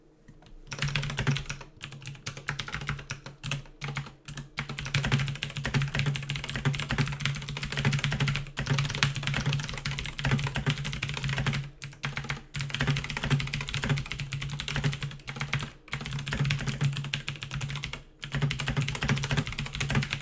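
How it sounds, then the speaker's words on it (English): Steady bursts of typing on a computer keyboard, close and fairly quiet, with brief pauses between runs of keystrokes over a low constant hum. "Les Hoy, I just responded to your email. That's what I was typing to"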